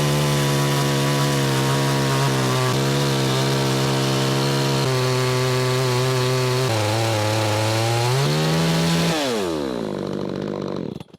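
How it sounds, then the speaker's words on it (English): Cheap 62cc P1 chainsaw on a ForestMaster chainsaw mill cutting through wood, a loud continuous engine drone with pitch shifting under load, then revving down as the cut ends. "so that's it with my cheap little P1 chainsaw"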